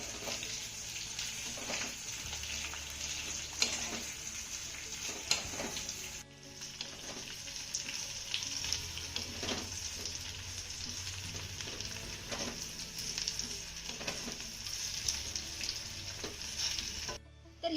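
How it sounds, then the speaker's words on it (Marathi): Betel leaf vadi pieces shallow-frying in a pan until crisp, a continuous hissing sizzle with occasional spatula scrapes and clinks, fairly quiet and steady with no voices. "दोन ते तीन मिनिटं ह्या वड्या आपल्याला मस्त अशा खमंग खरपूस होईपर्यंत आपल्याला परतून घ्यायच्या आहेत"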